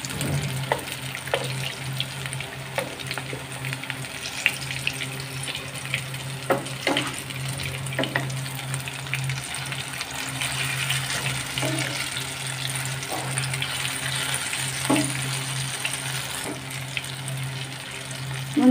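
Goat brain pakoras deep frying in oil, a steady bubbling sizzle with occasional sharper pops, heard close over a low constant hum.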